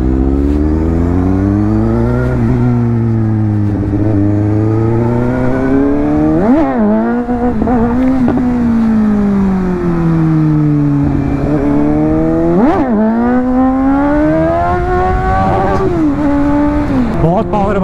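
A Suzuki GSX-S750 750cc motorcycle revs hard in first gear, its engine note climbing and dropping in repeated close, loud sweeps while someone talks excitedly over it.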